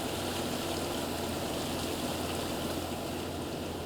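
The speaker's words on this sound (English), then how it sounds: "water is splashing by the wheels of this machine" Water churned and splashed by the wheels of a fertilizing machine crossing a flooded rice field, a constant close rushing wash over a low mechanical hum, steady throughout with no voices.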